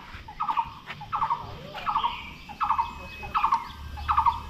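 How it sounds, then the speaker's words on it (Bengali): Forest birds in Satchari National Park, Bangladesh, call in a repeated squealing pattern, six short bursts spaced evenly over a few seconds, moderately close against a quiet outdoor background. "এই যে পাখির শব্দগুলা চমৎকার শোনা যায়।"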